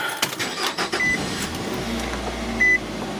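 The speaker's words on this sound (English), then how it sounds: "So let's start the car," A Nissan Altima engine turns over and starts, settling into a low steady idle, with a couple of short electronic chimes from the dashboard.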